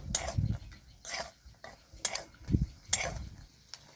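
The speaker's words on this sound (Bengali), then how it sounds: "বাদামটাকে আমি নেড়ে চেড়ে ভালো করে ভেজে নেব" Raw peanuts stirred and fried in hot oil in a pan: a series of separate metal scrapes and clinks against the pan, with only a faint sizzle beneath.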